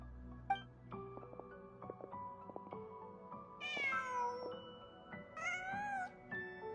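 A cat meows twice in Genshin Impact, two distinct rising-and-falling cries over a soft musical background.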